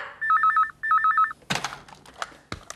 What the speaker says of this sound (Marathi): अरे फोन उचल ना